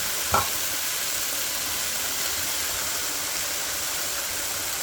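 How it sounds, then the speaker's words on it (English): Roux for chicken and sausage gumbo is stirred in a pot over heat, with a steady loud sizzle and frying hiss throughout and one brief knock of the spoon early on, no voices. "Stir it up nice and good"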